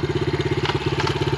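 A dirt bike engine runs at a steady idle close by, a rhythmic low putter pulsing evenly for a moment without any voices.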